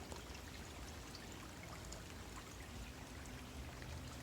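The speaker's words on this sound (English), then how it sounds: "I can see bubbles as the water falls off the rock into the stream." Water spills off a rock into a forest stream in a fern gully, a soft, continuous splashing and trickling wash heard faintly and steadily.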